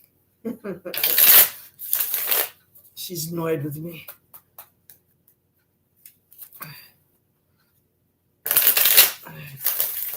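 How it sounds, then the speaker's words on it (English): Cards are riffled and shuffled in short crisp bursts near the start and end, with someone speaking briefly between them. "Let's get this deck shuffled up here."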